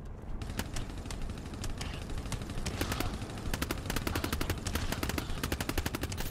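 A sentry gun in GTFO fires in rapid bursts of sharp, clattering shots, sparse at first and then dense and continuous, loud against a rumbling background.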